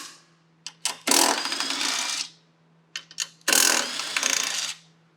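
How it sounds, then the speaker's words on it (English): A power driver spins a 12mm socket to back out screws on an electric scooter's rack, two bursts of whirring each lasting about a second, with brief clicks before each. "We're going to use a 12mm socket to do"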